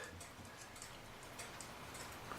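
A 1904 Chelsea Regulator clock in a mahogany case ticks steadily and faintly, its regular clicks sitting over a soft room hiss with no voices.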